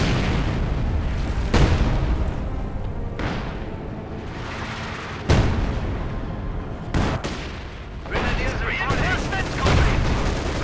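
Howitzer artillery and gunfire in the World War II strategy game Company of Heroes 2, a continuous barrage of heavy booms and crackling shots with several sharp, loud blasts standing out over the dense battle noise.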